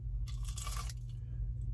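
A crunchy bite into battered fried cod from a fish and chips meal: one sharp, close crackling crunch lasting about half a second, then quieter chewing over a steady low hum.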